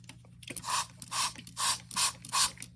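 Five short, even bursts of spray repeat in a steady rhythm, each a quick hissing pump from a hand sprayer close by, with a low hum underneath.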